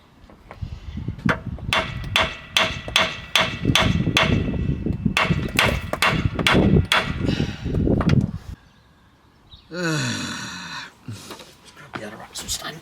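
Hammer striking a loose car part to shock it free, a fast series of sharp metallic blows close by for about eight seconds, then a pause and a brief scraping sound, with people talking around it.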